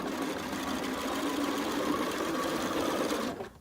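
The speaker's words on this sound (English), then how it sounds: "I'm going to sew, of course, 1/4 inch seam" A sewing machine stitches a quarter-inch quilt seam in a continuous close whirring run, with fast rhythmic needle chatter that stops abruptly at the end.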